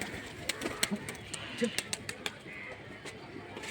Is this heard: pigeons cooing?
yes